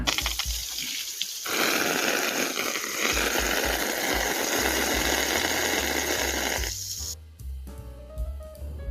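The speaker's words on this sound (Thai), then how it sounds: "น้ำที่พุ่งออกมาเนี่ยจะแรงแบบแรงมากๆเลยนะผู้ชมนะ" A strong water jet sprays from a hose nozzle while an air conditioner unit is being cleaned, giving a loud, steady hiss that runs for several seconds and then cuts off, leaving quiet dripping and faint tones.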